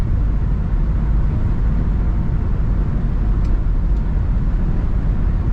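A 1991 BMW 325i convertible cruising down a road in winter gives a steady, loud rumble of engine and tire noise with no breaks, alone and with little wind roar.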